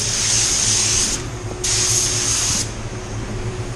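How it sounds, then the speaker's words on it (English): Spray gun laying a heavy, even silver coat of paint onto a BMW hood: two steady bursts of hissing spray, about a second each, separated by a short pause, over a low background hum. "I'm going to put on a nice heavy even coat"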